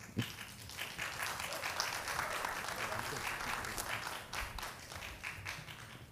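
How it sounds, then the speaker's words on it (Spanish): Faint, distant applause from an audience welcoming a presenter at an instructional design session, a soft, even patter of many hands that carries steadily throughout. "a quien recibimos con un fuerte aplauso"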